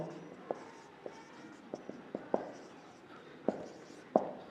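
Marker or chalk strokes on a board during a physics lesson: a series of sharp taps and short scrapes, spaced irregularly over a quiet room hum, close and fairly clear, with no voice over them.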